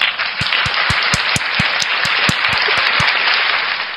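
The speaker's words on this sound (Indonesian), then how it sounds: "tepuk tangan buat Pendeta Saifuddin." A church audience applauds for a pastor with steady, bright clapping throughout, a few sharper individual claps standing out against the continuous patter, fairly close and without talk.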